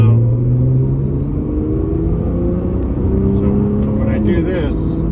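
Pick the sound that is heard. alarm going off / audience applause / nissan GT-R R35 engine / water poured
nissan GT-R R35 engine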